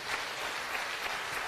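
Applause in a lecture hall during a general surgery class, a brief even burst of clapping from a group of students, moderately loud with no talk over it.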